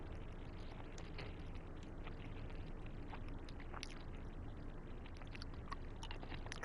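Someone chews crunchy M&Ms candy close to the microphone, a quiet, continuous run of small crunches and squishy bites with no talking.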